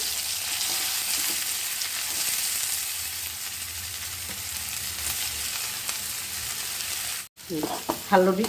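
A mashed mixture sizzles in hot olive oil in a kadai, a loud, steady, close hiss that carries on throughout. Near the end the hiss cuts off briefly, followed by a few clattering stirring sounds.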